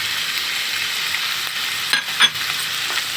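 Chili, coriander and turmeric powders fry with onion paste in oil for a fish curry, giving a steady close sizzle broken by a couple of brief stirring scrapes.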